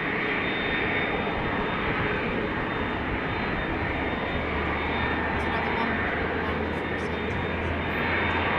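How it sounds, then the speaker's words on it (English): Loud, steady roar of Airbus A330 jet engines at Amsterdam Schiphol Airport fills the whole clip, a continuous broadband rumble with a constant high whine running through it. "we can already hear the A330's engines"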